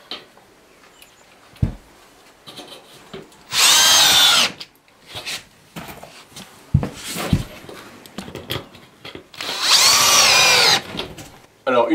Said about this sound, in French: quand on travaille sur du sol bois, l'avantage c'est qu'on peut visser directement